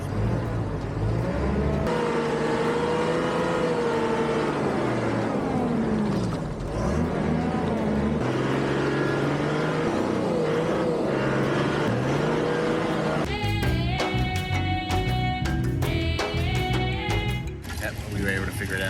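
A safari truck slips and slides on a muddy trail in Kenya's Masai Mara area, its engine revving and straining with rising and falling pitch, while people talk over it and rattling clatter joins near the end.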